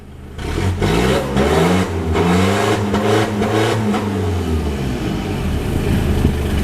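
The engine of an Isuzu All New D-MAX 2018 four-door lifted pickup turns over and catches, then is revved in a couple of rising and falling swells before settling into a loud, steady idle, close by and with no talking.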